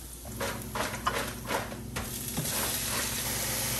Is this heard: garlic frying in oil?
yes